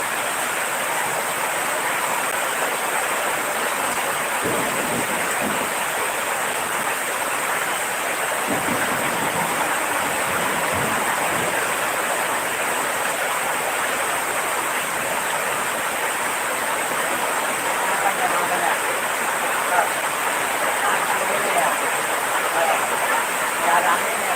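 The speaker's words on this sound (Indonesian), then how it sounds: "Lagi hujannya sangat besar" Heavy rain pouring down in a steady, dense hiss that holds level throughout, with a few faint voices and thuds buried underneath.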